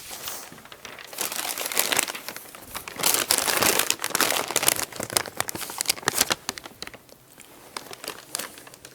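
Firm paper being crumpled and crinkled close up, irregular crackling bursts that swell and fade over several seconds, with no talking.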